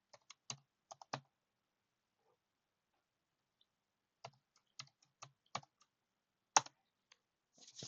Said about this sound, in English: Let me put in my password.